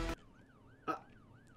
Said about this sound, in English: Them sirens gonna give me PTSD